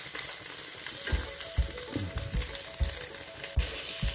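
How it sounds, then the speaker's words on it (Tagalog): Garlic and onion frying in a pan for pancit bihon with turmeric, a close, crackling sizzle broken by repeated soft stirring thumps in an uneven rhythm. "Ihalo po natin ng maigi ang bawang at sibuyas para hindi po sila masunog."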